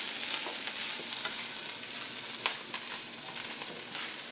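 Fried rice sizzles in a hot pan while a utensil stirs it, with soft scraping clicks and steady frying crackle close by, ending abruptly.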